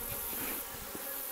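Honey bees buzz inside an established hive holding frames. The drone is dense and continuous, close and fairly loud, with no talking.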